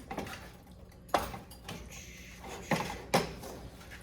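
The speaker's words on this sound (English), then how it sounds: "So we're gonna get this mixed together really good in the pan" Cheeseburger casserole ingredients being mixed in a pan for a keto recipe: a few sharp scrapes and knocks of a utensil against the pan, separated by quiet gaps, close and moderately loud.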